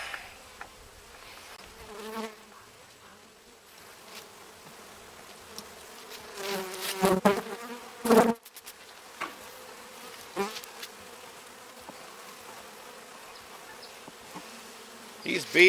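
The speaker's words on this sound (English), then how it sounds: "These bees are really aggressive." Honey bees buzz steadily around an open hive during a fall homestead inspection, a dense continuous drone with louder close passes as individual bees fly near.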